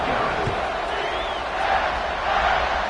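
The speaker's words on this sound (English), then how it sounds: "this crowd is buzzing after that last score" Stadium crowd in a football video game buzzing after a touchdown, a steady dense roar of many voices that holds loud and even throughout without letting up.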